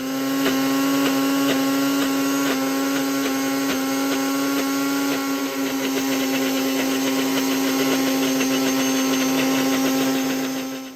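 A Ninja blender grinds nuts into nut butter, its motor holding a loud, steady, whirring drone for the whole stretch with a faint rattling texture.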